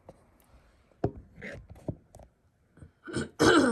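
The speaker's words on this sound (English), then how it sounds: "I still have a little bit of a cough left over from before" A few soft, scattered throat sounds lead into a louder, harsh cough near the end, close to the listener in an otherwise quiet room.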